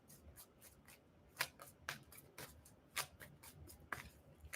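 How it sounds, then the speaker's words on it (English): Tarot cards are shuffled and drawn from a deck up close, a series of soft papery flicks and slides with several sharper snaps spread irregularly over a few quiet seconds. "I'm going to go ahead and pull one last card here for you."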